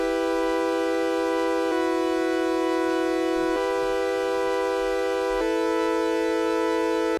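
A synthesizer patch in FL Studio layers a saw wave and a sine wave with the phase set 50% wider, playing four long sustained notes that change pitch, bright and buzzy, steady and loud with no voice.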